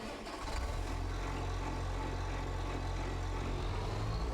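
A New Holland tractor engine in a farming video game runs at a steady, low idle rumble, starting up and then holding an even, continuous drone.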